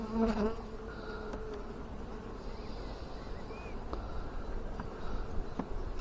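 A steady, dense hum of many honey bees buzzing close by around an open hive, with a few brief clicks and knocks over the drone.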